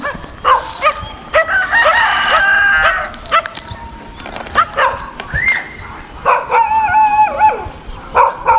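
Several dogs bark in bursts nearby, mixed with a rooster crowing and chickens squawking in alarm.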